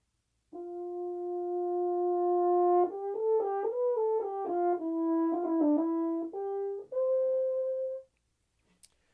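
A French horn plays a phrase of short detached notes with a few held tones, moving up and down in pitch, then ends on a sustained note.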